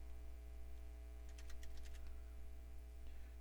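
A computer keyboard is typed on in a short run of quick, light clicks over a steady low electrical hum, fairly faint and close.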